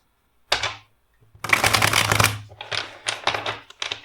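Cards are riffled and shuffled in several quick bursts, close and crisp, separated by short pauses.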